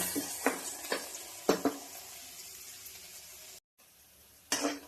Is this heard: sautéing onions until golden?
yes